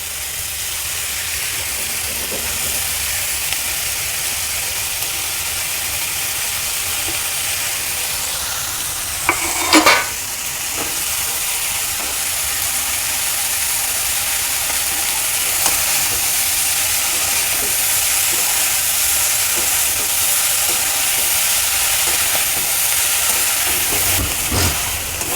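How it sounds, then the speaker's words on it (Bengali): Minced meat and vegetables stir-frying in a hot pan for a quick snack, a loud continuous sizzle and hiss running throughout, with a brief sharp clatter of the spatula partway through. "এবার দিয়ে দেব মাংসর কিমা, সাথে একটু মাংসটা আমার ভাজা ভাজা হয়ে এসছে।"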